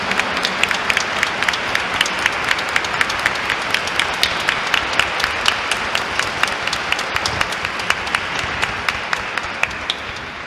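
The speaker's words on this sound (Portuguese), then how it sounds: "Mas vamos dar uma salva de palmas para eles que estão lá no fundo." Steady applause from a large church congregation, many hands clapping continuously for about ten seconds in a reverberant church, slowly thinning toward the end.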